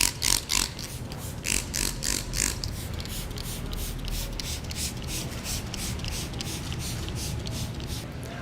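Spray bursts of Afterwash drying aid misted onto wet car paint, a few quick rhythmic pumps at first, then a steadier hiss of liquid and surface noise, close and moderately loud.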